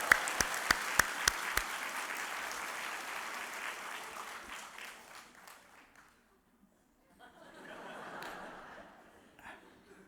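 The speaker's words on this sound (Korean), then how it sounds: "한번 박수를 더 합시다." Church congregation applauding after a solo vocal performance, sharp claps at the start giving way to a dense wash of clapping that fades to near silence, then a softer second swell of applause with murmuring and light chuckles.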